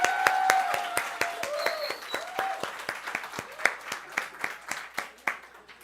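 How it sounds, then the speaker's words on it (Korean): A church congregation applauds during a Sunday service, a sparse indoor round of clapping with distinct individual claps that gradually thins out. "자, 박수."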